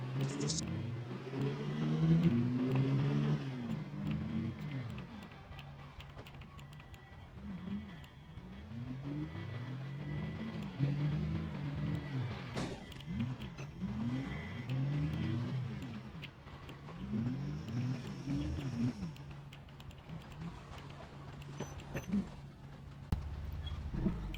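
Car engine in the Project Zomboid video game, revving and accelerating in repeated rising sweeps as the vehicle drives off, steady and fairly loud throughout with faint background music.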